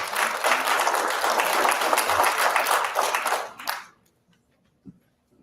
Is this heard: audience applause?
yes